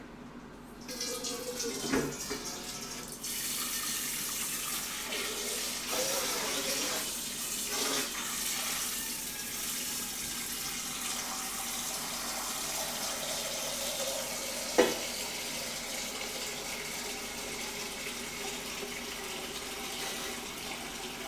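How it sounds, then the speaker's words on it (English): Hot water running from a kitchen tap into a pot, heard as a steady hiss and splash of pouring water with a few clanks and bumps of the pot, lasting over twenty seconds. "going to fill it with hot water."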